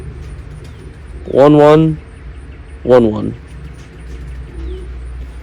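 A racing pigeon cock, a 2015 Dutch import from the Netherlands, gives two bursts of throaty cooing close by, each about half a second, separated by a short pause with a voice faintly in the background.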